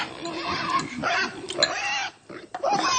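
A pig grunts and snorts while eating, close and fairly loud in bursts with short pauses between, in a Korean radio drama scene.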